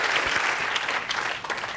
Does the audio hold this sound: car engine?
no